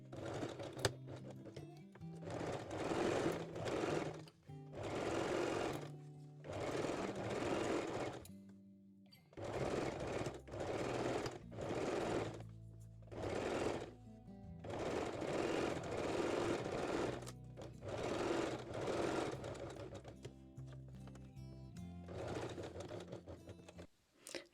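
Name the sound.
sewing machine sewing a long straight stitch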